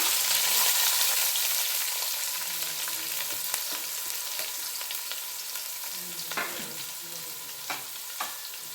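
Chopped onions, green chilies and mustard seeds frying in a pan, with a continuous crackling sizzle and scattered spoon scrapes and taps that grow more distinct toward the end.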